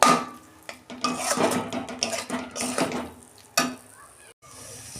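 Oil-fried paneer stirred in a pan while cooking spinach paneer, with loud spoon clatter and scraping against the metal and a soft sizzle underneath, in short uneven bursts.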